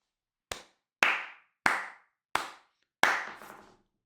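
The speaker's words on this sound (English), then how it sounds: "A round of applause, please" Five sharp, separate hand claps from a single person, close and distinct, with short ringing tails and brief gaps between them, the last one slightly longer.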